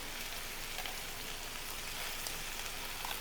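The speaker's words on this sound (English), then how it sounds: "now that our veggies are cooking down just a little bit, I'm going to add some of this delicious pot roast here to the pan" Vegetables and pot roast fry for a hash in a pan, giving a steady, even sizzle with soft crackle throughout, moderately close and with no talking.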